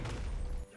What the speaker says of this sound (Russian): Что за взрыв?